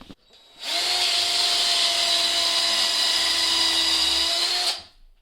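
A power drill runs steadily for about four seconds, a loud, close, high whine with an even motor tone, starting and stopping abruptly.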